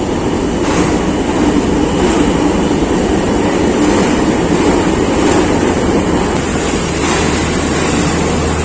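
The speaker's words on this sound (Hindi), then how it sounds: "To down Khyber mail Rawalpindi station पे आ रही है।" Pakistan Railways' 2 Down Khyber Mail pulls into Rawalpindi station, a steady, loud rumble of rolling coaches and rail noise filling the platform throughout, with no voices.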